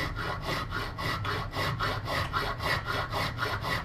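Steady back-and-forth strokes of a small file or saw cutting sawback teeth into the spine of a knife, a rhythmic rasping of about eight even strokes, close and alone.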